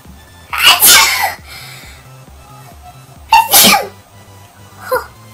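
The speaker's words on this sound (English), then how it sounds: "I gotta sneeze." Two loud, close sneezes several seconds apart, each a sharp burst, followed by a softer breathy sound near the end.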